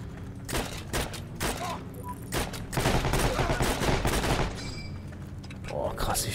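Rapid bursts of gunfire and automatic weapon fire in the online shooter game Heroes & Generals, loud and dense across the whole stretch, with clustered volleys and heavier reports partly overlapping faint talk.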